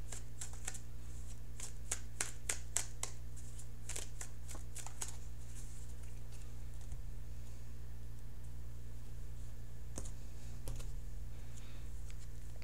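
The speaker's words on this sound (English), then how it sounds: "so let's shuffle for the outcome card here" Tarot cards being shuffled by hand, a quick burst of crisp clicking flicks near the start and a few more later, close over a steady low electrical hum.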